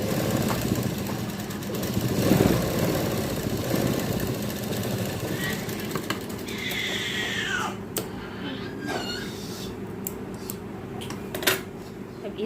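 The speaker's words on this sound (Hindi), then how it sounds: "अब हम यहाँ पर इससे राउंड वाले भाग पर सिलाई लगाएंगे।" A sewing machine stitches along the rounded edge of a baby frock, running in a steady mechanical whir that holds for several seconds before easing into lighter, intermittent clicks and short bursts near the end.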